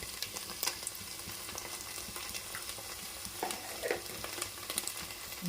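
Ginger garlic paste fries with browned onions in hot oil for a fish curry, a steady dense sizzle running throughout with occasional spatula scrapes and clicks, close and continuous with no talk.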